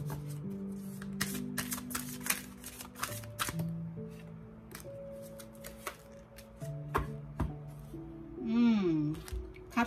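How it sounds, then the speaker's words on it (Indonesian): Tarot cards shuffled by hand, with quick papery riffles and sharp clicks scattered through the clip over steady background music. "saya akan mengocok kartu selanjutnya, kartu romans Anda ya"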